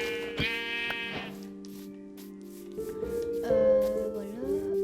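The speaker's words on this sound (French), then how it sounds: "Mouton là-bas." Sheep bleat in Minecraft: a long, nasal bleat up close, then a second wavering bleat after a pause, with no talking.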